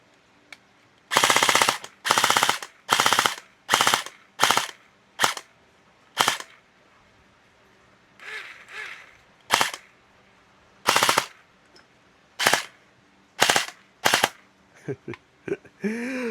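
An HLF UMP45 toy gel blaster fires in close, loud bursts of rapid snapping shots, about a dozen separate bursts of varying length with brief pauses between them.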